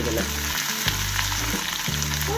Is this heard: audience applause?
no